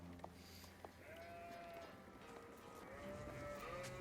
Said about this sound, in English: Look at all those sheep.